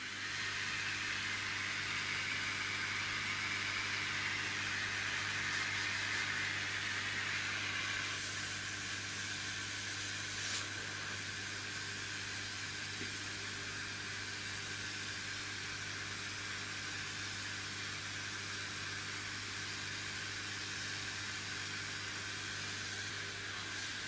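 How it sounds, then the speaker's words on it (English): A laser air assist pump blows air through an air assist nozzle on a standard hose with no brass nipple, giving a steady, loud hiss with a low hum underneath that runs unbroken throughout. "This is air test with standard hose, no brass nipple, with the air assist nozzle on it."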